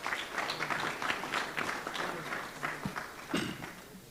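Audience applause at a cybersecurity tech hackathon as participants return to their seats: a steady patter of many hands clapping at moderate distance, easing off slightly toward the end.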